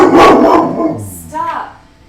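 A dog gives a couple of sharp barks and a short yip nearby while a person talks over it.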